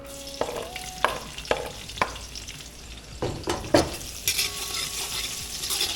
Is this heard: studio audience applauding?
no